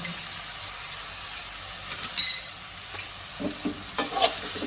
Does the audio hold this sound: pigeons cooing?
no